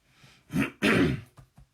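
A single throaty cough with a throat-clearing rasp, close and loud, followed by a few short breathy huffs.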